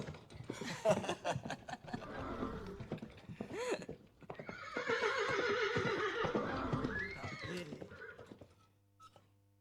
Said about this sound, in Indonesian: Suara lenguh kuda di istal itu